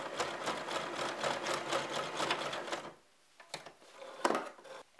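A sewing machine runs steadily, stitching fabric for a children's Olympic rings puzzle, and a fast, close mechanical whir goes on for about three seconds. It then stops, leaving a few soft clicks and bumps.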